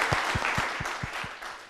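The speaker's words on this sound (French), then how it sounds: "On s'applaudit très très fort" Applause from young people at an outdoor youth event in Koumassi, a steady crowd of clapping with a strong rhythmic beat of regular, evenly spaced claps running through it, fading slightly toward the end.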